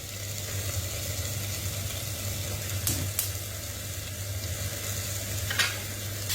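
Artichokes frying in a covered pan on low heat, giving a steady close sizzle with a constant low hum and a couple of brief clinks of the lid or utensil.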